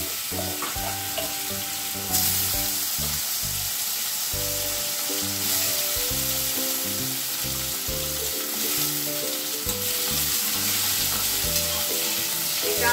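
Potatoes tossed into a pan of hot oil with panch phoron seeds give a steady, dense sizzle that fills the whole stretch without a break, with no voices over it.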